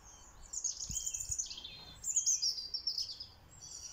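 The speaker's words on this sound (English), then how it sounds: "I've got my little, it's a blackbird." A blackbird sings outdoors by a forest garden, delivering fluting, warbling phrases in two main bursts, fairly close and clear over faint background ambience.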